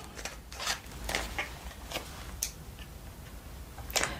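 Small metallic snips and clicks come irregularly, close and quiet, like scissors being opened, closed and handled.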